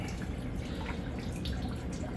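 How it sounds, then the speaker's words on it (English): Water from an RODI unit trickles slowly into a saltwater bin through a sock filter, a steady, soft splashing and dribbling wash that continues without pause. "How it slowly fills, and right now I'm refilling my salt water bin, again putting it through that sock filter."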